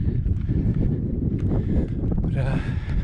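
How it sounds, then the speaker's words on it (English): Strong wind buffets the microphone on the fells of Skiddaw, a constant low rumbling roar throughout, with a voice talking over it. "wind's fair blowing"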